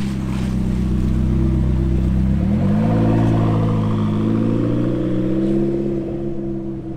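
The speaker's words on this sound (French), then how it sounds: "Le trafic monégasque, c'est toujours aussi surprenant" Loud engine drone in Monaco street traffic, a car nearby rising in pitch as it revs and accelerates, then settling into a steady rumble that fades slightly toward the end.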